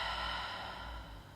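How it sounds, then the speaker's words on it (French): A close, steady breathy rush of air exhaled through the mouth during a relaxation breathing exercise, fading gradually toward the end. "Inspire profond, expire par la bouche."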